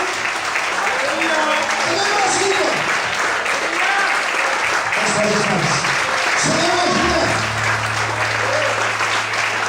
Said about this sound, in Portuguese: glorifique e aplauda o Senhor nessa noite, em nome de Jesus.